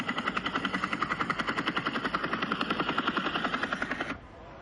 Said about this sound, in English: We got ourselves a low helicopter shot today.